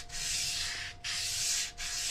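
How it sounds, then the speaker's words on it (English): A small hand sanding block loaded with 150 to 180 grit paper rasps steadily back and forth, close and loud, in two long strokes with a brief pause between them and no talking. "A little sanding block. I'd suggest something around the 150 to 180 grit."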